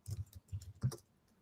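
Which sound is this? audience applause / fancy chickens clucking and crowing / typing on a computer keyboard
typing on a computer keyboard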